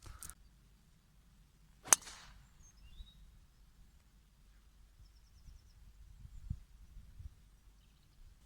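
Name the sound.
golf driver striking ball off the tee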